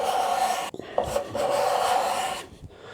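A card scraper drawn across wood, taking very fine wispy shavings: two close, steady rasping strokes with a short break between them.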